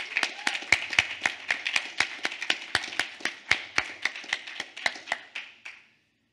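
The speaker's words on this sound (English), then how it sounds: "So let's give him a round of applause." A round of applause at a libp2p conference talk: a small group clapping steadily for several seconds, sharp claps at a fairly even rhythm, then fading out near the end.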